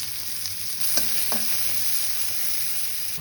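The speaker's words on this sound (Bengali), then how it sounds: "এখন আমি কড়াইতে তেল দিয়ে দিচ্ছি। আমি কেটে রাখা পেঁয়াজগুলো ভেজে নেব" Chopped onions sizzle and fry in hot oil in a kadai for a potato and bori curry, a steady close hiss with a couple of sharp spatter pops and stirring, with no talking.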